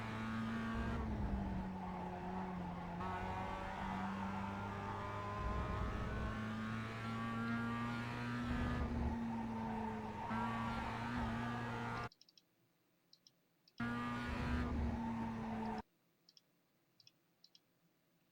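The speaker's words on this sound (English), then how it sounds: "I'm turning and braking, turning and brushing the brakes, sliding the car" A Mazda MX-5 race car in iRacing at Laguna Seca, sliding under braking: a steady, loud engine drone with tire scrub runs for about twelve seconds, cuts to near silence, returns briefly, then drops out again.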